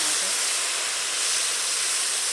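Tomatoes drop into hot oil on a wood-fired clay village stove, giving a loud, steady, close sizzling hiss that fills the whole moment with no voices over it.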